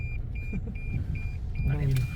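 A parking sensor beeps in a steady repeating pattern, short high tones evenly spaced, over car interior rumble with some voice and movement near the end.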